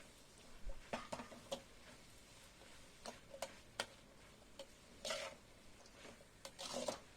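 A spoon stirs masala pasta in a pan, giving quiet scraping clicks and taps at an uneven pace with some light sizzling underneath, close but soft, with no talking.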